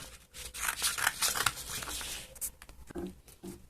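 Paper is cut with scissors for a Halloween Ghostface mask, giving irregular snips and rustling crinkles in quick bursts close by, with brief pauses between cuts and no speech.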